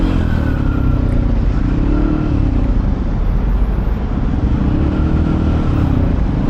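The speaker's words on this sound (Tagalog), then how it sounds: "Sabado traffic." Busy Saturday street traffic, cars and motorcycles with a Yamaha Aerox 155 scooter among them, a steady loud engine rumble with a faint revving swell running throughout.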